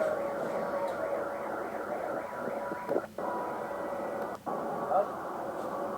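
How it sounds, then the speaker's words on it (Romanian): Air raid sirens wail with a rising and falling tone across the oil terminal port at Novorossiysk during a drone attack, steady and distant under broad background noise. "S-aud niște sirene, s-a dat alarma în port"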